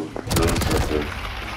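A full-auto shotgun in a video game fires a loud, fast burst of heavy blasts that blur into a booming roar for just over a second.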